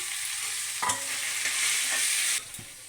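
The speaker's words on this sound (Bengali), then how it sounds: "আমি এখন সেদ্ধ ডাল কষিয়ে নেব তেলে" Boiled lentils sautéed in hot oil for a katla fish head muri ghonto: a loud, steady sizzle with a few stirring knocks and scrapes, close and without talk.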